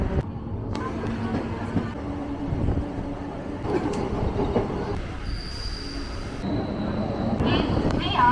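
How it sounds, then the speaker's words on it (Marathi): Local train pulling out on the Uran railway line near CBD Belapur, a steady rumble of rail wagons with squealing wheels and a high whine. Close and continuous, with people talking over it. "ट्रेन सुटलेली आहे।"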